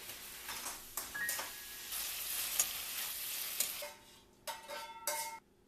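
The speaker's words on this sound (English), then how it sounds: "Add the green parts of the bok choy. Tofu instead of meat." Bok choy greens and tofu sizzling in a vegan stir fry, crackling close by with utensil scrapes and clinks, fading out in short bursts toward the end.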